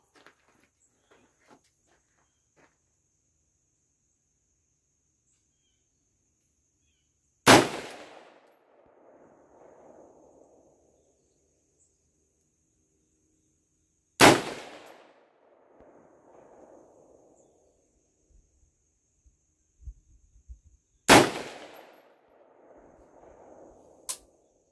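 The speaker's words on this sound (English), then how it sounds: "Gonna take some shots down to the 100-yard line. I'm gonna stand back, it's a little bit loud." .223 rifle shots fired at the 100-yard line on an outdoor range: three sharp, loud cracks spaced several seconds apart, each trailing off in a short echo, with faint rustling between.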